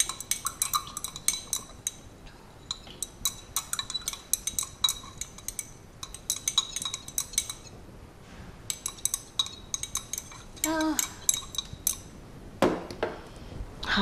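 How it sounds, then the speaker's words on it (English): A spoon stirs a solid in a container so it dissolves, making repeated light metallic clinks and scrapes in uneven bursts with brief pauses, close and fairly quiet. "Because it's solid, we have to stir to ensure that it dissolves."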